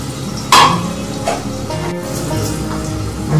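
Potatoes sizzle steadily in a hot frying pan, a constant crackling hiss with occasional scrapes and clinks of a utensil stirring against the pan.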